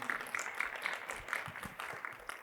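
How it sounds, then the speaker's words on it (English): A conference room audience applauds a presenter after a security talk, a moderate, steady patter of many hands clapping at some distance, with no speech over it. "let's just go ahead and give him one more round of applause for the great presentation"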